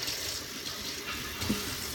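Cold water runs from a tap into a kitchen sink in a steady, soft splashing stream, heard close with no talk over it.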